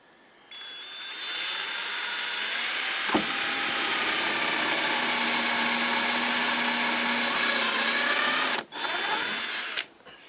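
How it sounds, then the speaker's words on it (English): A power drill whines loudly and steadily for several seconds, its pitch shifting slightly as it bites into a wooden model railway baseboard, then briefly cuts out and restarts. "I'm going to be using an electric drill for this"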